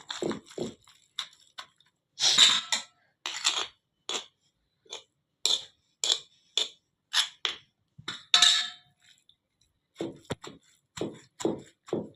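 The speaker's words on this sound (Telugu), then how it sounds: "దీన్ని బాగా చక్కగా దంచేద్దాం." Red chillies, peanuts and tamarind are pounded for chutney in a mortar, a series of close, sharp thuds in an uneven rhythm with short pauses between strikes.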